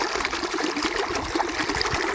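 Irrigation water running on a farm field, switched on briefly for testing, giving a steady broadband trickling and gushing flow, fairly close and continuous with no talk over it.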